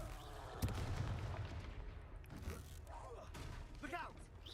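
Blast from a Confringo fire spell in the Hogwarts Legacy video game, a sharp burst opening into a rumbling, crackling explosion, loud and close, while other game sounds and voices continue.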